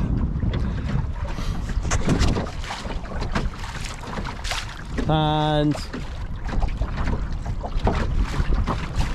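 Sailboat under way on a busy lake with the mizzen sail raised, carrying steady wind and water rush with hull noise throughout, a brief word spoken and a short tonal beep-like burst midway.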